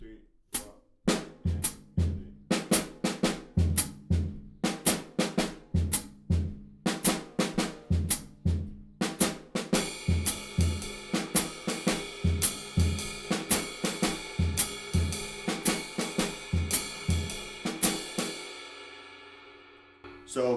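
A drum kit plays a syncopated pattern of snare and bass drum hits, crisp and close, with a steady stream of cymbal strikes joining partway through and ringing out near the end; no voices.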